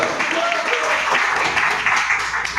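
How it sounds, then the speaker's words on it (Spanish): A church congregation applauds loudly and steadily, a dense wash of clapping that never lets up, with voices faintly mixed in. "Déselo fuerte el aplauso al Señor."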